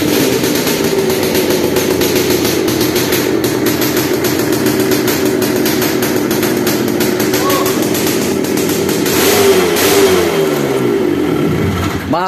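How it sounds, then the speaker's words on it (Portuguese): A Honda CG 150 motorcycle engine converted to two-stroke runs loudly and steadily close by, with a buzzy rattling drone that swells into a brief rev near the end. "Que o motor é tudo novinho aqui, mas ele tem uma zoadinha."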